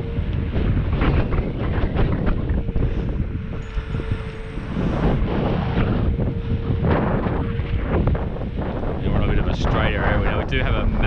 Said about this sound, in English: We do have a massive headwind at the moment.